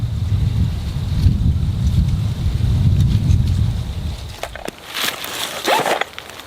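A gust of wind sweeps past an outdoor wood stove, a steady low rumbling buffet for several seconds before easing off, with a few brief sharper crackles afterward.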